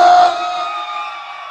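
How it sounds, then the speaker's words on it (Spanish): A stadium crowd shouts a chant aimed at Club América, a loud massed roar of many voices that starts with a sharp burst and then holds steady and sustained for the whole moment. "Y ahora, el grito de los que odian a la América."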